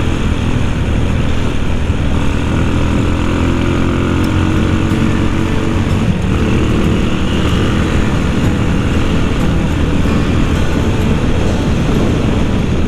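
A carbureted motorcycle riding along a road on a tour toward Citorek, with a loud, constant engine drone and wind rush from start to finish.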